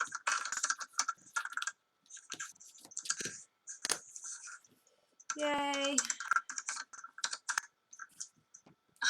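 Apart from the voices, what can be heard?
typing on a computer keyboard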